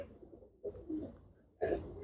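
Pigeons from a domestic loft coo softly at close range in a few separate throaty bursts, with brief quiet gaps between calls.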